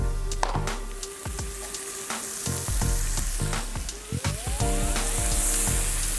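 Beef and butter sizzle loudly in a frying pan, a dense steady hiss broken by repeated sharp clatters and scrapes of stirring, close up with no talking.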